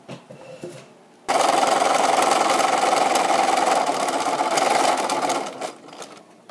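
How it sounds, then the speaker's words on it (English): Sewing machine stitching a fleece mitten in one steady, loud, fast whirring run of about four seconds, close by, with quiet handling noises before and after. "we'll sew it and trim it just like we did before"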